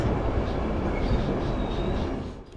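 A sleeper train rolls into Kapıkule, the Turkish border station, around 1 AM, giving a steady low rumble from inside the carriage with faint high squeals from the wheels, tapering off at the end.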